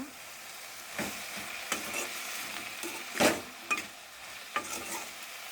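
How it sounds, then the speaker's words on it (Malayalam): A spoon or spatula stirs eggplant theeyal (vazhuthana) frying in a pan, with soft scraping strokes at irregular intervals over a quiet, low sizzle, close up and with no talking. "നന്നായി ഇളക്കുക"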